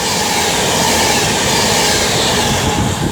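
An Avanti West Coast Class 390 Pendolino train from Birmingham International to London Euston passes through Milton Keynes Central at speed, giving a loud, sustained roar of wheels and carriages close by, with no talk.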